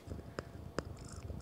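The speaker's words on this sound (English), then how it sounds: "That's a cat eating the microphone." A cat purrs right against a microphone while chewing on it, a low steady rumble broken by two sharp close bumps of teeth or mouth on the mic.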